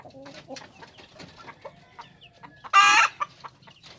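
Kelso breed gamefowl clucking in short, soft repeated calls close by, with a louder harsh burst of sound near the three-second mark.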